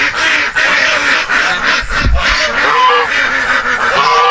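Farm ducks kept for eggs on a smallholding in North Kalimantan give loud, close, repeated raspy quacks in quick overlapping bursts, with a faint human voice in the background.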